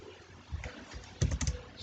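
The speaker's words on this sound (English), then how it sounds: "typing the exit command to get out of here" Keystrokes on a computer keyboard while entering an exit command during server maintenance: a few scattered taps, then a quick close burst of several clacks, with no voices.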